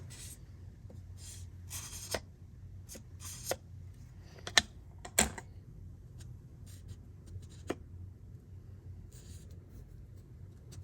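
A marker scratches along a knife's bevel edge on a KME sharpener in short squeaky strokes with pauses between them, close and quiet, against a low background hum.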